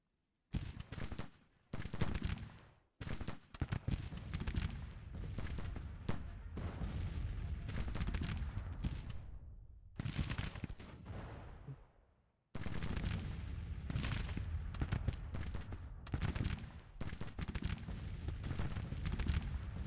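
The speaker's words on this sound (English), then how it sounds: "now I'm taking fire." Civil War video game battle with Confederate infantry under Union fire, dense continuous gunfire and artillery booms rolling through nearly the whole stretch, loud and sustained with brief lulls.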